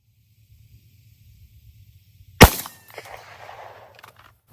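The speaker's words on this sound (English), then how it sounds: "So we're just gonna shoot from about 7 yards" A single sharp gunshot fired at a target from about 7 yards, loud and close, then a short hissing decay and faint rustling in an otherwise quiet outdoor setting.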